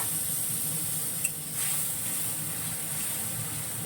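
Ginger, garlic and cashew paste sizzling with garam masala in a pan for egg korma, a continuous soft hiss with a brief stir-like click partway through.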